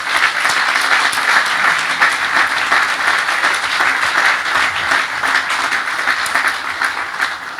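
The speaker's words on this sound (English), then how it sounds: "We should give her a round of applause." A ceremony audience at an engineering campus groundbreaking claps steadily throughout, a full, even wash of applause with no break and no voices on top.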